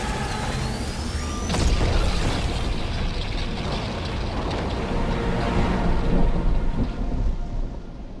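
Thunder from lightning strikes in the video game Fortnite, a sharp crack near the start rolling into a sustained, loud rumble with a rain-like hiss throughout.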